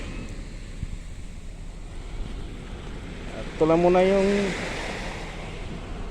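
Surf washing onto a seashore with steady wind noise, a continuous wash throughout, and someone briefly speaking over it near the middle.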